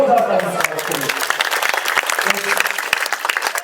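Loud, close audience applause at a Saraswati Puja committee competition results event, dense rapid clapping that starts right after a voice, briefly overlaps it, and then continues on its own.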